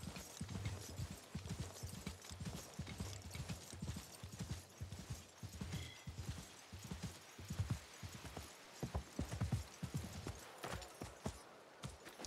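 Horse hooves clip-clop in a steady trotting rhythm in the video game Assassin's Creed, fairly faint, over a low rumbling ambience with no talking.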